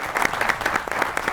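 An audience at a TV talk show applauds in a brief burst of quick, rhythmic clapping, evenly loud with no voices over it.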